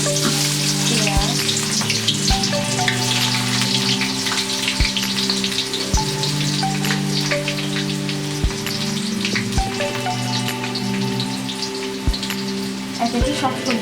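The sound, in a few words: onions frying in oil for fried rice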